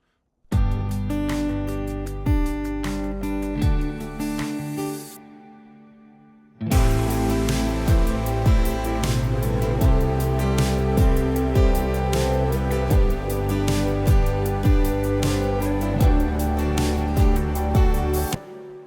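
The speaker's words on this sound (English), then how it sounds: "the entire instrumental sounds like this on its own" The instrumental track of the song plays on its own, a steady beat with bass and layered synths. A short intro drops to near silence before the full arrangement kicks back in loud and sustained, with no singing.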